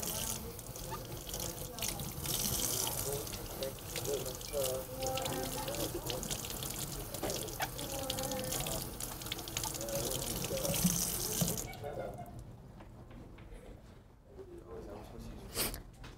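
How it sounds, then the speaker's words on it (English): Tap water runs steadily into a sink as a Honeycrisp apple is rinsed, a broad continuous splash with voices talking over it, cutting off near the end to a quieter room. "Make sure to rinse your apple before use."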